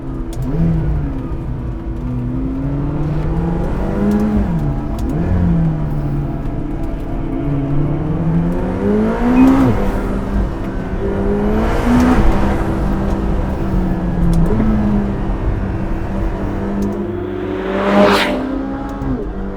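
A McLaren 720S V8 engine hums and revs steadily while driving, rising and falling in pitch with a few sharper surges of acceleration.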